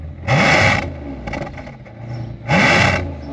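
A car engine revving with its exhaust valves closed, two strong throttle blips separated by a lower idle, loud and close, from an Audi A8L W12 or Mercedes S63 AMG limousine.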